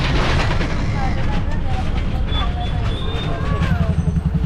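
A heavy Shivshahi bus engine rumbles loudly close by as the bus pulls away on a trip to a Konkan village, with scattered voices over the low, steady roar.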